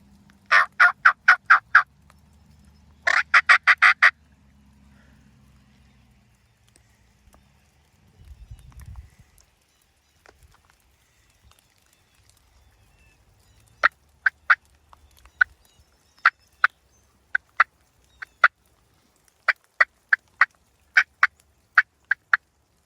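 Wild turkeys gobble outdoors during a hunt, loud rapid bursts early on, then a long string of sharper calls spaced a second or so apart, with a brief low rustle between.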